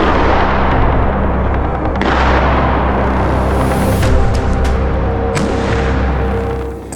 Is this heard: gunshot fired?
yes